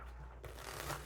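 Tarot cards shuffled by hand, a soft brief riffling rustle, close and fairly quiet, with no talk.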